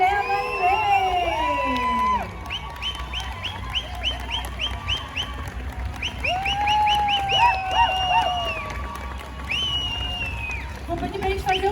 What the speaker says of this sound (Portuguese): eu peço que vocês se levantem e deem uma salva de palmas, muito barulho, muito carinho para Galileu Galilei